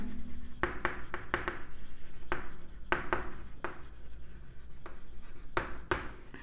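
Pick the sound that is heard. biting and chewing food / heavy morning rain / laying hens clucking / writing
writing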